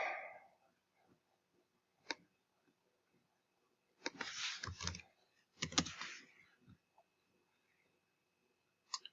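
Keys clatter on a computer keyboard in short, quiet bursts: a couple of isolated taps, then two denser flurries of rapid typing, each about a second long, separated by near silence.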